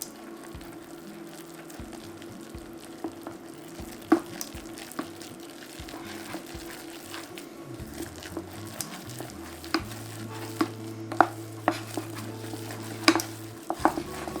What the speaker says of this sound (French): Et je mélange pendant à peu près 1 minute jusqu'à obtenir une panade bien formée.